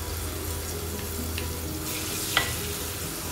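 Ginger-garlic paste sautéing in a pan for a prawn curry, a steady soft sizzle with faint stirring scrapes and one brief clink near the end.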